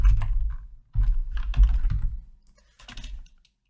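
Typing on a computer keyboard, several quick bursts of close, crisp key clicks with short pauses between them, ending with a final short run of keystrokes.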